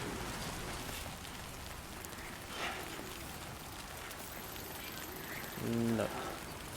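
Timefall rain in the Death Stranding 2 video game, a constant hiss of rain falling on surfaces, even and moderately loud throughout, with a short louder patch near the end.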